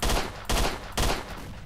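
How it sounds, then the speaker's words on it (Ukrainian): Viper submachine gun fired in S.T.A.L.K.E.R.: Shadow of Chernobyl, three loud, close bursts spaced about half a second apart, each a heavy booming crack with a short tail, with no talking. "я хотів спробувати з гадюки постріляти"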